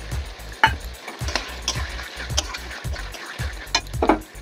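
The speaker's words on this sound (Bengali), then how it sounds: "তো আদা জিরে বাটাটা মোটামুটি ভাজা হচ্ছে" Ginger-cumin paste frying in a pan with tomato and raisins for Bengali aloo dum, a steady close sizzle broken by a regular series of soft scraping stirs and light utensil knocks, with no talking.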